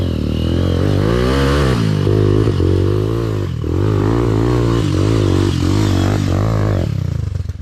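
A motorcycle engine runs loud and close at a Red Bull race, a continuous rough drone with wavering revs and clattering mechanical texture throughout.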